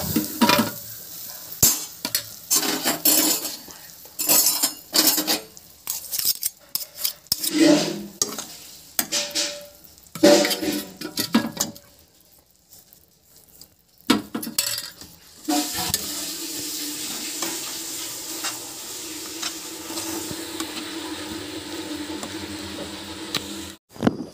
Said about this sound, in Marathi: हा मेल्ट होसपर्यंत जरा फिरवून घ्यायचं।